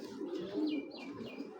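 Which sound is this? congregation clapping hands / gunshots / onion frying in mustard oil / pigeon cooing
pigeon cooing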